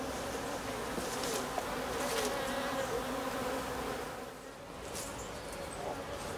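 Honey bees buzz in an opened hive, a dense, steady hum close by that swells and dips slightly, with no talking.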